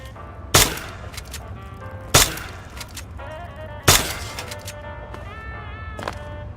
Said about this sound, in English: Go on, shoot something for me.